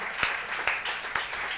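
A church congregation at a Good Friday service claps together: a brief, moderately loud patter of many hands with a few sharper individual claps standing out, and no talking.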